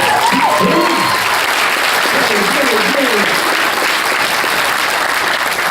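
A large crowd at Fan Expo Toronto applauds and cheers loudly and steadily throughout, with a voice calling out briefly near the start.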